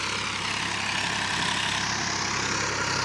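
A Massey Ferguson 245 DI tractor engine runs with a steady, continuous drone that holds even in loudness throughout, without pauses or changes in pace.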